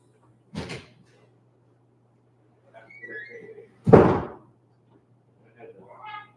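Doors closing indoors: two dull, solid thumps land a few seconds apart, close by, with faint shuffling and soft murmuring between them.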